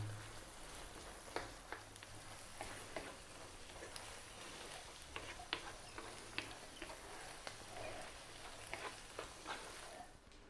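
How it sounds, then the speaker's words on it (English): Pasta tossed in a pan of creamy garlic sauce with bacon and spinach, giving soft repeated clicks and scrapes over a low, steady sizzle; quiet and close, with no talking. "Let's just throw that around in the pan, get some of the lovely sauce in, on, and around the pasta."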